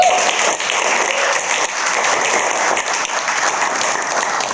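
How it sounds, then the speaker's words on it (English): An audience at a business conference claps in sustained, dense applause for a presenter, steady and fairly loud throughout with no voices over it. "Let's clap for Nikki again."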